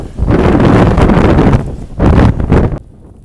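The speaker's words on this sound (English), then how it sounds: "This wind is kicking right now." Strong wind blasts across a mountain ridge just off the Appalachian Trail, buffeting the microphone in two loud, rumbling gusts separated by a brief lull.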